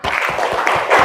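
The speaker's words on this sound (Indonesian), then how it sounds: "Tepuk tangan untuk kita semua" A brief burst of group clapping, close and fairly loud, with a few distinct claps in quick succession.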